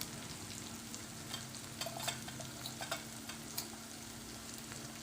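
Cabbage sabzi with peas, chili, turmeric, cumin powder and black masala sautés in a pan with a quiet, steady sizzle. Soft scraping stir strokes and light taps recur throughout at low volume.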